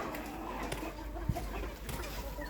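Chickens cluck faintly in a backyard farmyard on a warm autumn day, a few scattered clucks over a low steady hum, with no clear talking.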